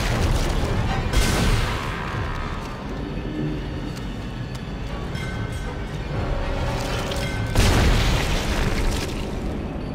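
Heavy booming blasts erupt twice amid a constant rumbling din, loud explosive bursts with a continuous noisy background from the video game Dead Space.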